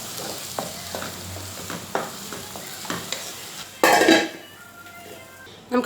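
Tomatoes with salt and turmeric stirred in a pan for rava upma, a run of spoon scrapes and clinks over a soft sizzle, then a louder burst of metallic clatter as the lid goes on, with no talking.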